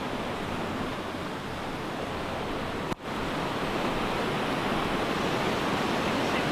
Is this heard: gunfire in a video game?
no